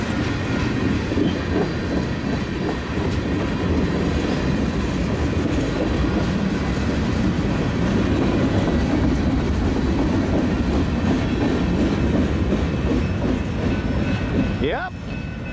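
A westbound Union Pacific mixed freight train rolls steadily past on track two, a dense continuous rumble and clatter of cars filling the whole stretch, with a brief rising squeal near the end.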